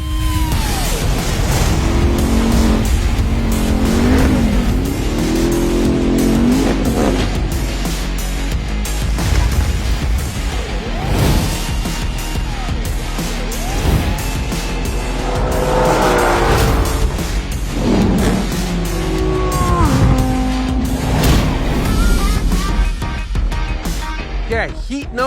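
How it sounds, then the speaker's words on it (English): Cars launch in an elimination-style drag race, among them a Porsche Cayenne Turbo Coupe and a pickup truck, with loud engine roar rising and falling continuously throughout, tire noise, and voices talking over the din. "we're doing elimination style drag racing."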